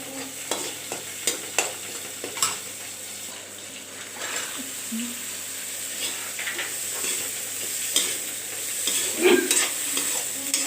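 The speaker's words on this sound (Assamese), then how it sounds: "এইফালে ভাজি আছো মাছ" Fish frying in a pan, giving a close, steady hiss and crackle with occasional spoon scrapes and knocks, and a few louder bubbling spurts near the end.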